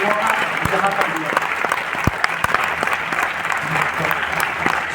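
Loud audience clapping at a success celebration, sustained applause with sharp individual claps standing out near the microphone, while a voice talks over it through most of the stretch.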